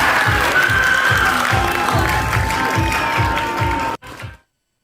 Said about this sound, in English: I did actually catch just a small amount of cheering at the very end